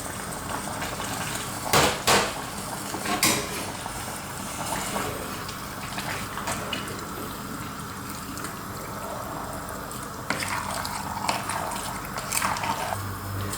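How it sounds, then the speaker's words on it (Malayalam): Water is poured into spiced beef with curry leaves in a cooker pot, a soft, faint, continuous splashing trickle broken by a few sharp clatters of utensils, with no voices. "ഇതിലേക്ക് ആവശ്യത്തിന് വെള്ളം ഒഴിച്ച് കൊടുക്കുക."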